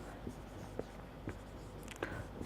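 Handwriting during a maths lecture on numerical integration, with several distinct scratchy pen or marker strokes spaced irregularly across a quiet room background, close and moderately clear.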